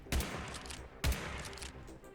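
Two loud, sharp blasts from an auto shotgun in the video game Reclamation, spaced about a second apart, each a hard punchy report trailing into a short decaying rumble, with no talk over them.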